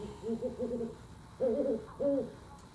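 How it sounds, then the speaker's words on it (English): A great horned owl hoots close by in a series of deep, soft, resonant notes: a quick run of several hoots, a pause, then two longer, louder hoots. "a lot of our great horned owls vocalize a lot."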